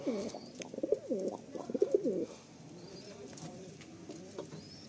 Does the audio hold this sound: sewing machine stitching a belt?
no